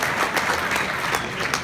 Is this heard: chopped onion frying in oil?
no